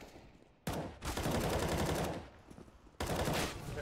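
Automatic rifle spray in the CS:GO video game, two long loud bursts of rapid gunfire separated by a short pause, close and dominant.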